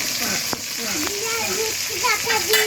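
Cumin and garlic paste frying in a pan for a village-style chicken curry, a continuous close sizzle with stirring scrapes, a voice talking over it.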